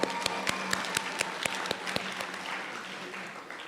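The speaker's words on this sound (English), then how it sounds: "Let's give her a round of applause." A burst of clapping from a gathered audience at a school annual awards afternoon, sharp claps thick at first and then thinning out over a few seconds.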